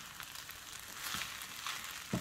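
Vegetable rice with chopped omelette and egg frying in a pan as it is stirred, giving a steady soft sizzle with a few scraping stirs, moderately close and alone.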